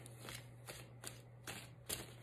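Tarot cards being shuffled by hand, a quiet series of four or five soft riffling bursts at an even pace, close and faint against a low hum, no talking.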